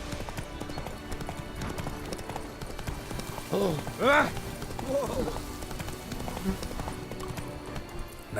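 Roach, the horse in the video game Witcher 3, gallops in a steady, rolling clip-clop of hooves that stays fairly close and even, with a brief voice-like call rising midway.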